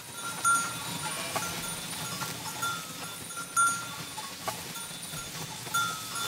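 A flock of about 600 ewes grazes by a pond in the Dordogne countryside, their bells clinking and clanking in scattered bursts over a soft, distant background with occasional faint bleats.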